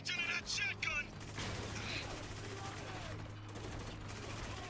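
Combat sounds in the video game Spec Ops: The Line, with a short burst of gunfire including shotgun-like blasts near the start, followed by sustained battle rumble under a constant low hum, with brief voices early on.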